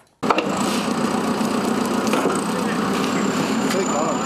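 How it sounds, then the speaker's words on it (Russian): Asphalt pavers laying a new road surface during courtyard improvement works in Yalta: a heavy machine engine starts up abruptly and then runs as a loud, steady rumbling drone with occasional clanks. "Асфальтоукладчики стелят дорожное полотно."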